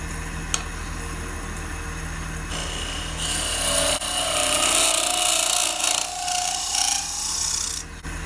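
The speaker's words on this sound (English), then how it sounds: "I've just switched over to a round nose scraper to clean up the very bottom" Round nose scraper cutting the inside bottom of a butternut wood vase on a lathe, a close, continuous raspy scraping over the machine's hum that swells louder midway, with no talking.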